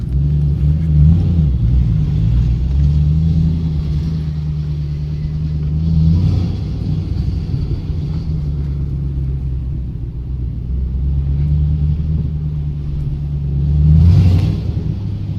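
A Ford Mustang GT fitted with SSS Terminators exhaust drives along with a deep, steady low rumble from the exhaust, swelling slightly in a few spots as the engine revs.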